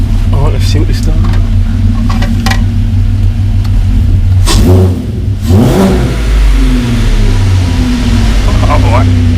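Water-cooled V6 engine in a Mk1 Caddy 4motion fires up on its first start and is revved in loud, rising bursts, with an idle rumble steady throughout and a person talking over it.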